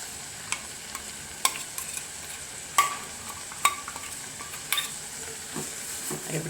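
Ground coconut paste stirred into cooked ash gourd in a pan, with soft scraping strokes every second or so over a faint sizzle, close and fairly quiet with no talking.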